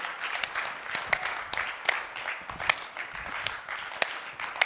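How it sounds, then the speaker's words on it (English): An audience at a leadership talk applauds to welcome the speaker, a dense steady patter of many hands clapping at moderate distance, with a few sharper claps standing out through the whole stretch. "Please join me in giving a warm, highly respected welcome to the principal of Lawson Leadership Advisory, Mr. Hugh Lawson."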